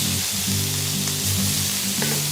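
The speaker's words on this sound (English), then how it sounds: "So just kind of keep an eye on them as they cook, but don't move them." Burgers pan-fry on a stovetop, a dense, steady sizzle and spatter close by, continuous and loud with no talking.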